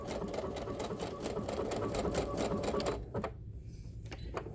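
A sewing machine stitches steadily across a blossom quilt wall hanging, a fast dense mechanical rattle that stops abruptly partway through, leaving a quieter room with a few faint clicks.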